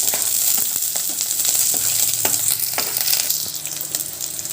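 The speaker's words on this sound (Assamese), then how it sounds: "পিঁয়াজখিনি ভাজি ল'লোঁ।" Onions and green chillies frying in oil in a kadai, a steady close sizzle with occasional stirring clinks and scrapes, no voices.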